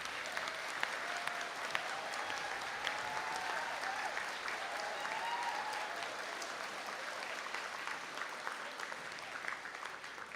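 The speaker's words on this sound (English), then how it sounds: "Bernadette Staunton, Lauren Weldon, round of applause for our graduates, please." Quiet, sustained applause from the audience at a college conferring ceremony for graduates, an even rolling patter of many hands that continues for about ten seconds with faint crowd murmur.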